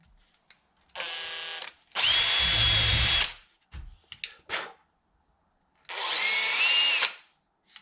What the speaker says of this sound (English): Just got a little drill, act as a pilot. Just whack a little hole through